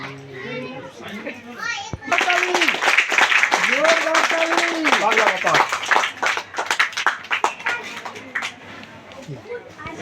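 Loud, sustained clapping from a crowd gathered at a political party leader's residential office, rising suddenly after a brief pause and continuing dense and steady, with children's voices and chatter mixed throughout.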